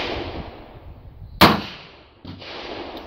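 A Great Western II .38 Special revolver fires a single loud, sharp crack outdoors, with a quick decaying tail over low background rumble and a softer thump shortly after.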